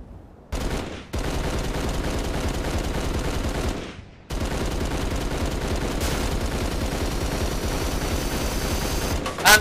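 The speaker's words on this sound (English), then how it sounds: "Like I'm actually getting shot at! That's because they are now!" Sustained automatic gunfire roars almost continuously in long dense bursts, loud and close, broken by a couple of brief pauses; no talk is heard over it.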